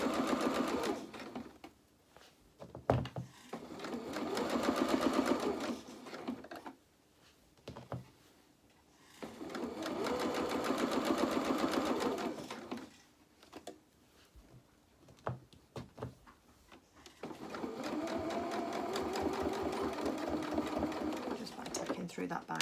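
A domestic sewing machine runs in three bursts of rapid, even stitching as binding is sewn onto pyjama bottoms, with quiet pauses and a voice between the runs.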